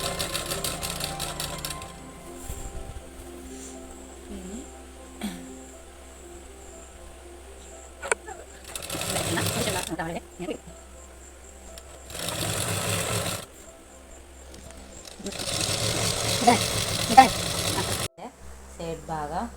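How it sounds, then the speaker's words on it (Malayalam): Sewing machine stitching the pocket of a ladies' pant, running in several loud close bursts of rapid whirring separated by pauses, with a voice talking in the gaps. "ഇതിൻ്റെ പോക്കറ്റിൻ്റെ വായ അടയാത്ത വിധത്തിൽ നമ്മളിങ്ങനെ മെല്ലെ തയ്ച്ചെടുക്കാണ്"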